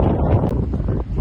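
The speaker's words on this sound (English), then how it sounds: "it is super, super windy" Strong, steady wind buffets the microphone with a loud, continuous low rumble and roar throughout.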